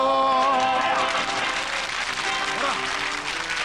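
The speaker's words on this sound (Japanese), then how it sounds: "素晴ら しい拍手に迎えられてありがとうございます" Applause from a studio audience greets the Tamagawa Quartet rōkyoku comedy group arriving on a 2000 TV show, a steady dense wash of clapping mixed with voices and some sustained tones.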